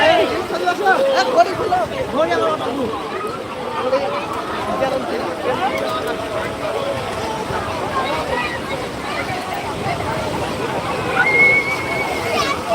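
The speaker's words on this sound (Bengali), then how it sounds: "তো প্রচুর পরিমাণে পর্যটক এখানে হয়ে থাকে ওই দীঘার সমুদ্র সৈকতে" Crowded sea beach at Digha during high tide, with steady washing surf and sloshing water under a dense babble of many voices and nearby talk, continuous and fairly loud throughout.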